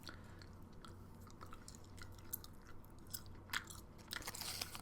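Gum chewing sits close to the mic: soft, wet, crackly mouth clicks and squishes repeat irregularly over a faint steady hum.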